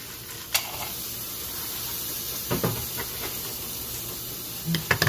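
Frozen vegetables frying in a pan give a steady, soft sizzle and hiss throughout, broken by a few brief clatters of stirring near the start, middle and end, with no talking.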